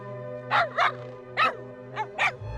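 A dog barks five times in short, irregular bursts, close and clear, over a low steady hum.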